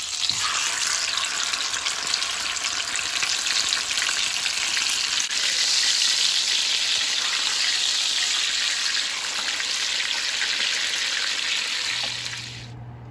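A tortilla fries in hot red enchilada sauce, giving a steady, dense sizzle that stays loud and even throughout before easing off near the end.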